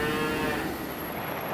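A single long, loud moo from cattle near the US-Mexico border fence, close and unbroken, with a steady high whine running through it.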